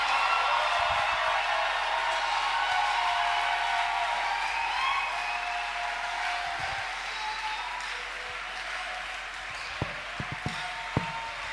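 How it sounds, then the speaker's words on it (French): Congregation applauding during a church service, a broad, sustained roar of clapping that slowly fades, with a few sharp low knocks near the end. "Applaudis le Seigneur"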